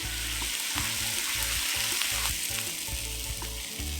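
Sweet peas stir-frying with sliced lotus root in a pan give a steady, loud sizzle with a spatula scraping and tossing at a regular rhythm, and no voices are heard.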